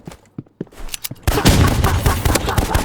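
Pistol gunfire in the video game Roblox Rivals: a few sharp, separate shots first, then a loud, dense burst of rapid shots and impacts filling the rest.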